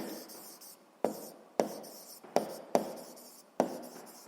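Pen writing on paper, heard close and alone as scratchy strokes with five sharp onsets that each trail off, spaced about half a second to a second apart.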